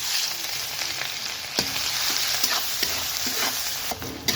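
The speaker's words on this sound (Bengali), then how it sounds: "তো দিয়ে দিব পেঁয়াজ কুচি।" Chopped onion hits hot oil already seasoned with bay leaf and whole garam masala, left from frying duck eggs for a curry, giving a steady close sizzle broken by a few sharp stirring clacks.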